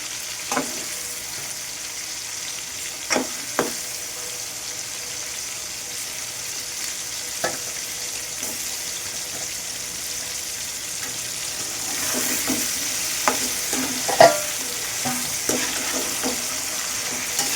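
Chicken pieces fry in a pan for chicken fried rice, a steady close sizzle with scattered scrapes and knocks of a spatula stirring, growing a little busier toward the end.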